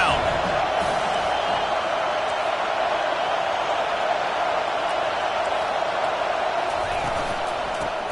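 Roaring football stadium crowd building noise on a third-down defensive stand, a sustained loud wash of cheering and shouting with scattered whoops, under a broadcast commentator's voice.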